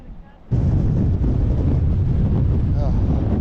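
Strong wind roars against a boat at sea, slamming in suddenly as a loud, buffeting rumble that fills the microphone and holds steady after an initial quieter moment.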